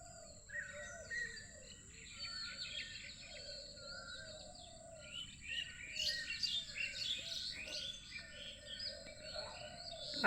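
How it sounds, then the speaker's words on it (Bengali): Birds on a rain-soaked morning chirp and twitter in faint, repeated calls against a soft, insect-like background hum. "পাখির কেমন কিচিমিচি আওয়াজ দেখছো"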